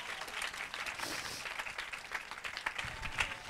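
A church congregation at a Sunday service breaks into steady, dense applause, a continuous wash of many hands clapping that holds evenly throughout.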